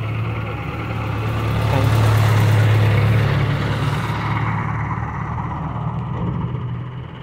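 Up close, a tractor engine runs loud and continuous as it pushes a 22-wheeler truck in a village, its pitch swelling midway as it revs under load and then settling back to a steady rumble.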